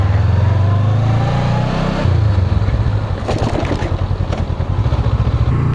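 A dual-cylinder motorcycle pulls away after a gear shift, its loud, close engine note dipping at the shift and then settling into a steady pulsing throb as it moves off.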